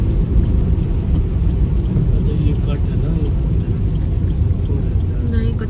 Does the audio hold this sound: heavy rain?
yes